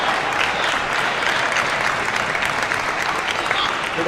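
A crowd at the Asian Championships table tennis semi-final between Harimoto and Liang Jingkun breaks into sustained applause and cheering, dense and steady throughout, with a commentator's voice over it.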